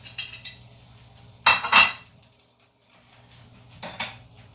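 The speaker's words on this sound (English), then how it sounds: "cooking on a wrought iron pan" Metal utensils clank and scrape against a wrought iron pan while eggs and bacon cook, in two short clattering bursts separated by quieter stretches of faint background noise.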